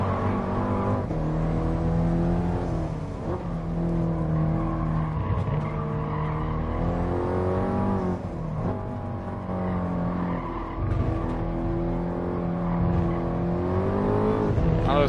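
Race cars in Gran Turismo Sport, including Nissan Skylines, a Supra and an AMG, rev loudly with rising and falling engine pitch, gear changes and tire squeal, running continuously throughout.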